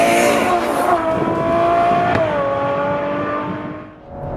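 A Ferrari 812 Superfast driving hard in Race mode, its V12 engine holding a loud, steady high-pitched howl, with one sharp dual-clutch gearshift crack midway, then easing and fading near the end.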